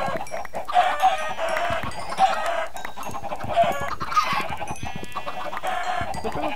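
Chickens in a video game cluck repeatedly in a busy flock, with scattered short squawks over a continuous low background and no speech.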